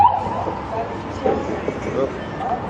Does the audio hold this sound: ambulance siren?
yes